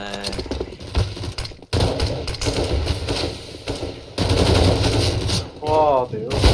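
CS:GO match gunfire: bursts of rapid automatic rifle shots come in dense stretches with short gaps, loud and close, mixed with game effects and shouted voices.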